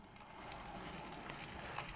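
A B1 model steam locomotive runs in reverse with a faint, steady mechanical whirr and a light ratcheting gear noise, alone and close by.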